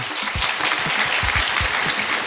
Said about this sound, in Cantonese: 先俾啲掌聲你哋自己先